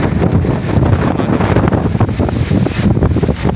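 Strong wind buffets the microphone in a continuous loud roar with rough low rumbling at Dingalan, Aurora, unbroken throughout and no voices.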